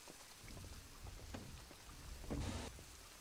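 Rain falls outside a house window, a soft continuous patter with scattered drops. A louder gust or rumble swells briefly near the end.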